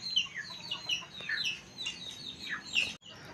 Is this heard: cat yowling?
no